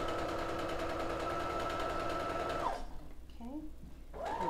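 A sewing machine runs at a steady, fast whirr while stitching a paper pieced quilt block, then stops partway through, leaving a short stretch of quiet with a voice briefly heard afterward.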